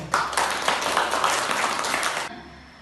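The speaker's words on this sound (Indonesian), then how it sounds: "Tepuk tangan dulu." A classroom of students claps together for a few seconds, a loud, dense burst of applause that stops abruptly.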